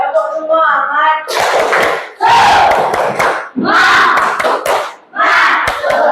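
A class of schoolchildren performs a rhythmic group clapping cheer in a classroom, bursts of clapping and shouted chanting in several loud phrases separated by brief pauses, opening with a short sung or called lead.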